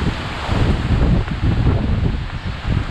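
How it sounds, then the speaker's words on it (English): Strong gale-force wind buffets the microphone outdoors in a back garden, a loud, continuous roaring rush with gusting surges and no speech. "The wind is very strong, blowing a gale."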